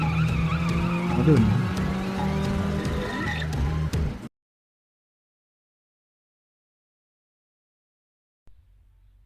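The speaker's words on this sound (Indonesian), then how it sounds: "Dia terlihat sangat expert ngedrip di tikungan dengan stabil" A car drifts through a corner with about four seconds of steady tire squeal over a loud engine. Silence follows, then a faint low hum returns. A voice briefly exclaims during the skid.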